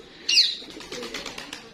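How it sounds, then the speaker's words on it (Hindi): Village flock of mixed pigeons in a Punjab breeding setup: a brief burst of wing flaps and high chirps near the start, followed by soft intermittent coos and rustling at moderate volume. "माशाल्लाह सारे कबूतर ही कबूतर हुए"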